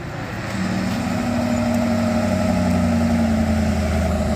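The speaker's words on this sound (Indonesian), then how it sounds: "Nah, mesin diesel." A diesel truck engine idles with a steady, low rumble that holds unbroken throughout. It is fairly loud and close.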